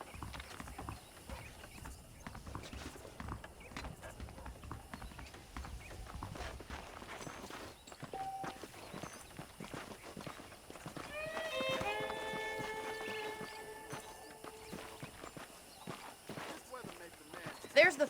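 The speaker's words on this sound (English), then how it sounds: "The horses are saddled up over here." Horse hooves clip-clop at a walking pace in the Western video game Red Dead Redemption, a steady rhythmic plodding near the listener, mixed with game ambience and a brief tonal musical swell midway.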